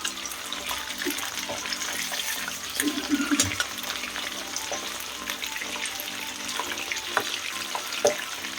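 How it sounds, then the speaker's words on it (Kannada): Mint chicken kebab pieces frying in oil in a pan, a steady close sizzle with scattered pops and a few stirring scrapes. "ಇದನ್ನು ಇನ್ನೊಂದು ಸರಿ ಫ್ರೈ ಮಾಡ್ಕೋಬೇಕು"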